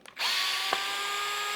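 A power drill spins up sharply and runs at a steady high whine as it backs screws out of the ESC on an Arrma Typhon Grom RC car, close and loud, with a brief knock partway through.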